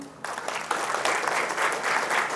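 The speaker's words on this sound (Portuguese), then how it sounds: "Essas palmas também servem para vocês acordarem depois do almoço" A room full of people at an accountants' event breaks into steady applause, dense clapping that starts abruptly and holds at an even level throughout.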